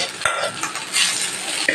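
Cooked rice stirred into fried chilli masala in a pan, a close sizzling hiss with two brief metallic scrapes of the utensil against the pan.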